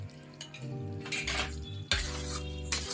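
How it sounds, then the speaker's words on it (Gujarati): Wheat flour sheera being stirred with ghee and jaggery in a pan over low heat, metal spoon scraping and clinking against the pan in quick bursts over a soft sizzle, close by. "બસ આવી રીતે આપણે ધીમા ગેસ ઉપર મિક્સ કરી દઈશું."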